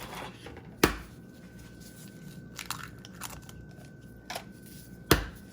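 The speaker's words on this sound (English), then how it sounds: "get our bowl and we're going to crack our eggs" Eggs cracked into a bowl for a steak and egg breakfast skillet, a few sharp separate taps and cracks spaced several seconds apart, close and crisp, with faint handling noise between them.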